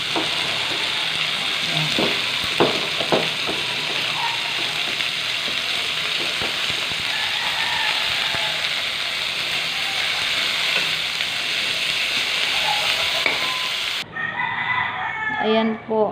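Sliced bitter gourd (ampalaya) sizzles and crackles as it sautés with tomato in a pan, a loud continuous frying hiss with occasional stirring clatter, a rooster crowing in the background and a brief voice.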